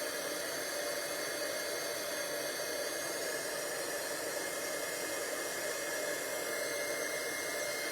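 Heat embossing tool blowing hot air onto a card with gold splatter, a steady, even hiss and whir that holds unchanged throughout, close and alone.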